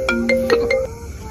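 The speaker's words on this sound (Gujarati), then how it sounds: "લે આ ફોન આવ્યો." A mobile phone rings for an incoming call, a short run of bright, repeated melodic tones, clear and close.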